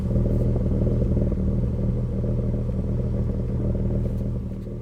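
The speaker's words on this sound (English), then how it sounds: "get a little bit of a sound check right before we take off here with this exhaust" A 1995 BMW E36 M3 with an aftermarket exhaust idles close by, a steady deep burbling rumble holding even before tapering slightly at the end.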